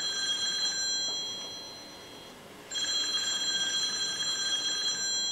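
A telephone rings during a call with a steady electronic tone, holding, dipping briefly, then resuming for several seconds at moderate level.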